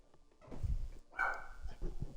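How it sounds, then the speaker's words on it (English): A pet dog barks a few times in the background indoors, short muffled woofs spaced irregularly and fairly faint. "my dog's kind of barking in the back here."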